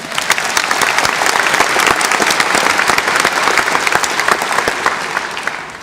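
Steady, dense clapping from a conference audience fills the whole stretch, loud and sustained without pause.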